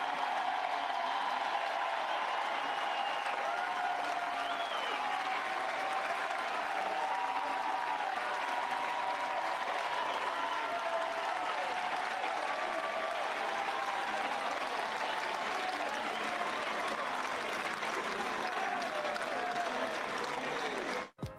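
A large college baseball crowd at Chapel Hill, during a super regional game against Arizona, gives a sustained ovation, a steady roar of cheering and clapping that holds for about twenty seconds before cutting off abruptly.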